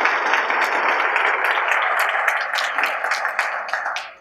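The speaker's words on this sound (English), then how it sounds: "Let's give him a round of applause." An audience at a Get Tested Coachella Valley event with Senator Barbara Boxer claps in a dense, loud wave that holds steady for several seconds before thinning out at the end.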